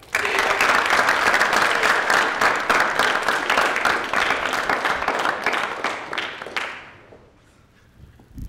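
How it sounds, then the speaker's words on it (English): Audience applause at a ceremony, a full room clapping loudly and steadily, then tapering off gradually and dying away toward the end. "So give a big round of applause to Gina Frank."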